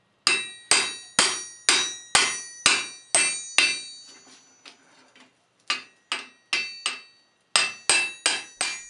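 Sharp ringing hammer blows drive a tapered steel mandrel into the eye of a forged tomahawk trade axe, a steady run of evenly spaced metallic strikes, a brief pause with lighter taps, then more close, loud blows.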